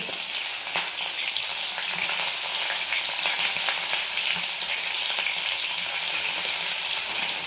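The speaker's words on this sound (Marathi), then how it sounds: "तर आता ह्या राहिलेल्या तेलामध्ये आपण हिरवी मिरची टाकणार आहे." Green chillies frying in oil left over from frying peanuts, a loud dense continuous sizzle and crackle with faint stirring, no one speaking.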